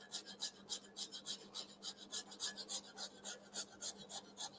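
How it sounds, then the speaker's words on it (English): A zester rasps against the edges of gingerbread slabs in quick, even back-and-forth strokes, a close, dry scraping rhythm of about four strokes per second, with no talking. "inside edge of the slabs and scraping it at an angle so we can have the neighboring panels"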